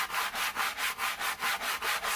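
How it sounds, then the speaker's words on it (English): Wood sanded by hand with the coarse 60-grit side of a sanding block for a fall door hanger, a steady rhythmic scratching of about nine even back-and-forth strokes, close and alone. "I'm going to now move on to a new sanding block, and I'm going to use the coarse side, and I believe it's a 60 grit."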